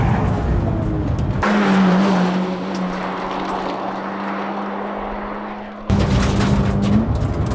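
Subaru BRZ racing on the Isle of Man roads, engine droning loud and steady at high revs with a sharp break around a gear change before the note picks up again, no talk.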